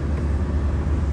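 A steady low engine rumble from inside a moving Tata Nexon diesel car in heavy traffic, constant and moderately quiet with no voices.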